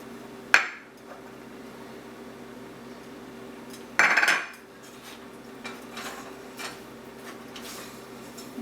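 A spoon stirs champurrado in a saucepan over low-medium heat, giving two distinct metallic clanks against the pan several seconds apart over a low steady hum, with faint ticks between and no talking.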